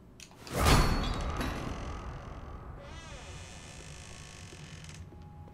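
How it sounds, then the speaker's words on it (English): A door opening in The Walking Dead: A New Frontier, Episode 4, Thicker Than Water: a loud, sudden knock or burst followed a couple of seconds later by a drawn-out, wavering creak that trails off into a quieter background. "Real stealthy way to open a door"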